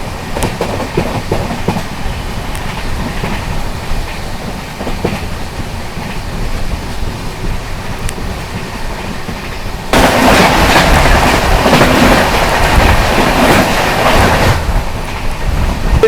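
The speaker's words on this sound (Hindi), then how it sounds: "सामने से आ रही है आप लोगों की मुंबई सेंट्रल से चलकर अहमदाबाद की ओर जाने वाली AC डबल डेकर एक्सप्रेस आ रही है" An AC Double Decker Express running from Mumbai Central toward Ahmedabad rumbles past a level crossing, its loud steady roar and wheel clatter swelling sharply midway as the coaches go by close at hand.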